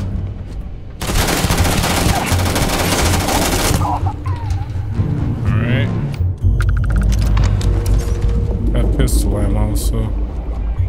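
Enemy gunfire in the sci-fi shooter Starfield, a dense loud burst of rapid shots followed by scattered single shots and clanks, with someone talking and reacting over the combat.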